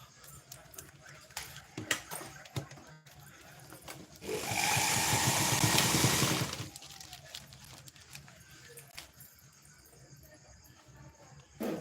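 Sewing machine stitching along a folded cloth edge, a steady whirring run of about two seconds in the middle, with quiet handling noises and faint background before and after.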